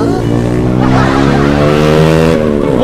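A loud vehicle exhaust drones close by with a steady, throaty tone that holds without a break.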